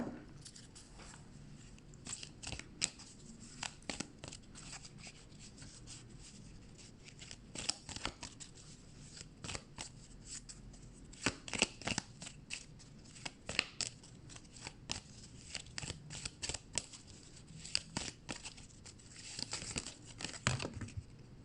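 Oracle cards are shuffled and drawn close up, a soft continuous riffling and flicking of card stock with repeated crisp slaps and shuffling bursts, quiet and alone without talk.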